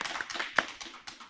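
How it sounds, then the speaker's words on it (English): Applause for a presenter at a character education teacher certification session, a brief stretch of scattered hand claps, quiet and somewhat distant, with a faint voice underneath. "Let's give her another round of applause."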